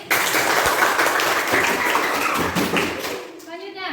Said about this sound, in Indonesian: tepuk tangan untuk Faiz